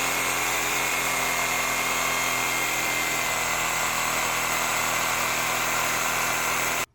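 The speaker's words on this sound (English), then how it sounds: "Some people call it the reciprocating saw." A loud, continuous buzzing reciprocating saw cuts through a small tree close by for several seconds, with steady rapid vibration, then stops abruptly.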